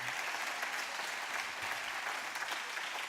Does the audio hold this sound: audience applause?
yes